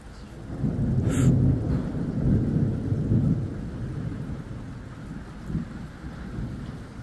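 Thunder rumbles low and long through a violent thunderstorm in the Drôme, with steady rain on surfaces throughout and a brief sharp crack near the start, no voices.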